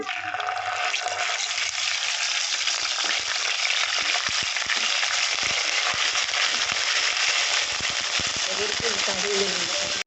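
Chopped ginger and garlic drop into hot oil in a pan that already holds cumin seeds and curry leaves. A dense, steady, close sizzle crackles without pause for about ten seconds and fades only at the very end.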